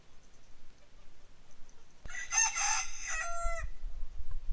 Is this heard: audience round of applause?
no